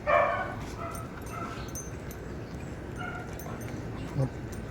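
Playful dogs bark, yip and whimper in a room, the loudest bark at the start, then softer whines and a short yelp near the end, with a person talking quietly underneath.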